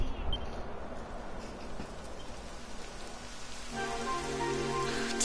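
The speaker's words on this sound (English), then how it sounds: "It would have to go and start raining, wouldn't it?" Steady rainfall pattering on the ground in the video game Dragon Quest XI, a constant hiss of drops that continues throughout, joined near the end by soft musical tones.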